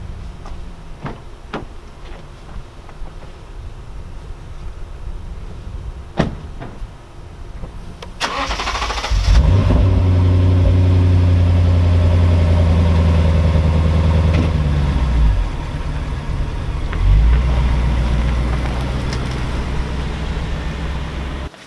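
A Lexus GS F sports car engine cranks and fires up with a loud roar in a garage, then settles into a steady, rumbling idle close by, with a brief rev partway through.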